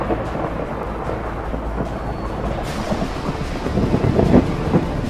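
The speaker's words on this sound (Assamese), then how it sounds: "ধূলিৰ ধুমুহাই আগুৰি ধৰিলে গুৱাহাটীৰ বায়ুমণ্ডল" A dust storm sweeps over Guwahati with a low, continuous rumbling roar of wind. Heavier gusts swell and grow louder toward the end.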